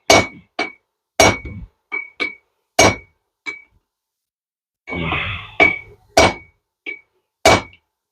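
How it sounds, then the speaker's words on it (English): Heavy hammer blows ringing on hot steel against an anvil while forging a bick iron, about a dozen sharp metallic clangs in an uneven rhythm, close and loud, with a brief hiss midway. "we're going to stand it straight up on the anvil and just hammer down on this end"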